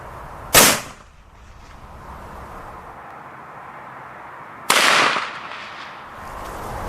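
A .44 Magnum Winchester rifle firing semi-jacketed soft point rounds outdoors at about 50 yards: two sharp, loud cracks several seconds apart, each followed by a brief decaying tail.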